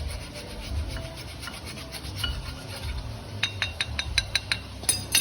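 A hand file rasps across a Chevrolet Vectra brake pad to cure a noisy brake, a close scraping rub that turns into a series of short, rhythmic strokes near the end.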